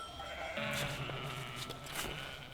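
A sheep lets out a loud, close, wavering bleat, followed by a second bleat a moment later, with a flock's faint background sounds between them.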